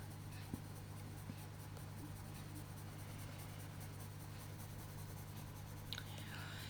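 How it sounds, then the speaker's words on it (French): Colored pencils scratching across smooth, thick Clara paper in a steady, soft grainy rasp, close and continuous, with a few faint taps over a low background hum. "J'aime beaucoup, beaucoup, beaucoup ces crayons. Je crois que j'ai pas eu autant de plaisir à crayonner depuis longtemps."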